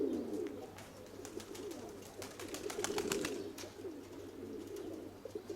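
Racing pigeons cooing in a loft, a run of low throaty coos repeating close by over a steady background hum.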